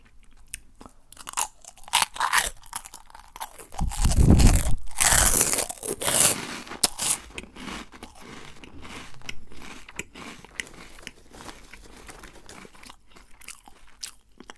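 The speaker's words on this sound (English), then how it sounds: "Monster Munch makes like a hella cool noise." Loud, close crunching and chewing of Monster Munch junk-food snacks, with a burst of heavy bites in the middle and softer mastication continuing throughout; no talking.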